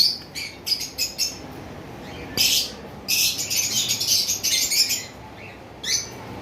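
Cockatiels and budgerigars in a bird shop, a close flurry of sharp chirps and squawks in irregular bursts with short quiet gaps between them.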